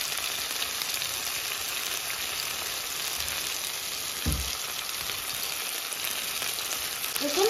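An omelette mixture sizzles steadily in a frying pan, giving a constant, close, even hiss with a brief soft knock partway through.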